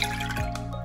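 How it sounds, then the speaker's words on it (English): Whole milk, about 3.5% fat, poured from a measuring cup into a saucepan: a short steady liquid stream with a brief gurgle and splash, close and alone. "I'm gonna pour just 1 cup of it into the saucepan"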